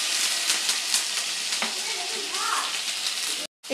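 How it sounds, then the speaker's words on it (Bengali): Garlic and ginger paste frying in hot oil in a frying pan, a close, steady hiss and crackle that holds for a few seconds before cutting out abruptly. "একটা ফ্রাই প্যানে একটু তেল গরম করে নিয়েছি। এবার এর মধ্যে দিয়ে দেব একটু রসুন বাটা আর একটু আদা বাটা"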